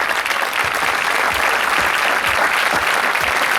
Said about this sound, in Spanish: Un aplauso bien fuerte para empezar.